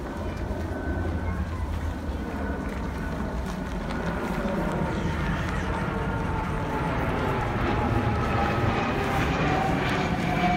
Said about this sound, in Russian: Смотри, как самолет летит.